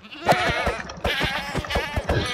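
A goat bleats in several short, loud bursts with brief gaps between them, coming across as game sound effects rather than a live recording.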